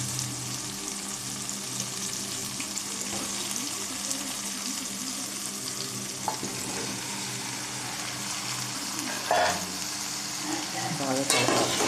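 Okra pieces cooking in a pan with softened tomatoes give a continuous close sizzle and bubbling fry, with occasional scraping stirs and clinks of a spoon against the vessel throughout.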